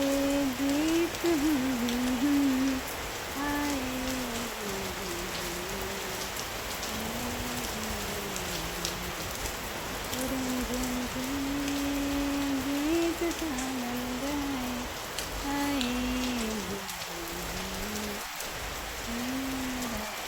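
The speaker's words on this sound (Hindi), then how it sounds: "इतनी बारिश हो रही है ना" Steady rain falls in the afternoon, a dense, even hiss that lasts throughout, with a faint wavering melodic tone running over it.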